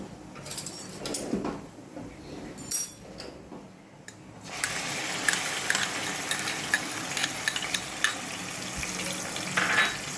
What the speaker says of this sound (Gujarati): મેં તેલ મૂકી દીધું છે એક બાજુ ગ્રેવી કરવા. એમાં જીરું નાખ્યું છે.